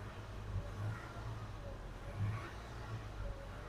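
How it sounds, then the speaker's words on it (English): A 2017 Toyota Tacoma's 3.5L 2GR-FKS V6 revs during coolant air bleeding, a low, steady engine rumble that swells slightly in a few faint pulses. "When I rev it up"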